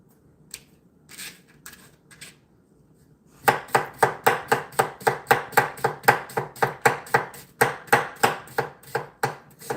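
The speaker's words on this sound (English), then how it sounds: "Let me cut this side." Onion being cut on a cutting board with a knife: after a few quiet taps, a steady run of fast, sharp, evenly spaced chops on the board, close and fairly loud.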